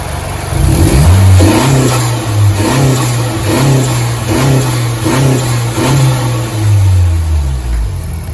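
A 2017 Honda Civic FK 1.5 Turbo with a full aftermarket exhaust revs repeatedly toward 4,000–5,000 rpm, loud and close, the engine rising and falling in a steady series of throttle blips.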